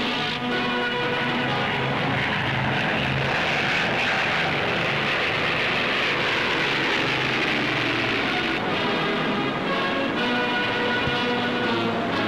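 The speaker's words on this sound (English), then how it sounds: "led the flypast in his Spitfire on Battle of Britain Day" Spitfire fighter aircraft in a Battle of Britain Day flypast over London, a continuous loud engine roar that holds steady throughout with a broad rumbling drone and no voices.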